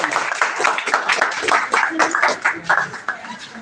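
Audience clapping at a school prize-giving ceremony for top class-test results, a steady patter of many hands at moderate loudness, close and continuous.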